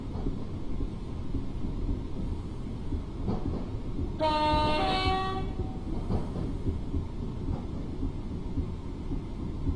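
A Class 378 electric train in Train Simulator on the South London network runs with a steady low rumble, and a loud horn blast cuts in midway for about a second before the running noise carries on alone.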